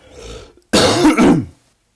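A single loud throat-clearing cough up close, a harsh rasping burst lasting under a second after a faint murmur, then silence.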